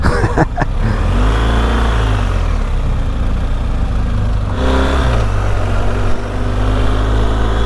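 A BMW R1250 GS motorcycle pulls away, its engine loud and close with rising revs and gear changes in a steady throaty drone that lasts the whole stretch.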